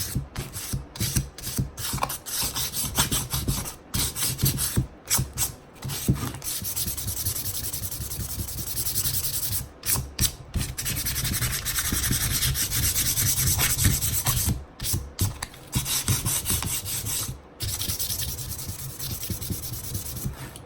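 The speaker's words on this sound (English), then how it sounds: "And if you sand too much, you can just go back and repaint it." Painted wood edges are sanded by hand in long continuous rubbing strokes, close and steady, with brief pauses between passes and no voices.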